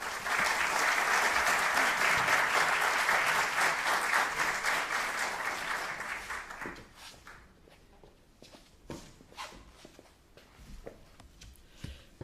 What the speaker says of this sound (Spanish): Fermín Fernández. Un aplauso.